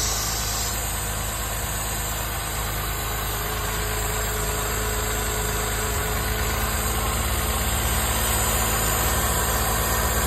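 A Toyota Sienna engine idles steadily and roughly with a misfire, a continuous low rumble with uneven vibration throughout, heard up close with no voices.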